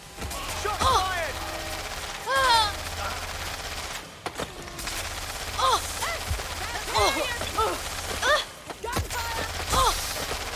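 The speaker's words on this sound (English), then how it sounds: "Shot fired!" Gunfire in Watch Dogs Legion during a police shootout at a bank, with repeated sharp bursts of shots spread across the span, mixed with other game sounds and wavering tones.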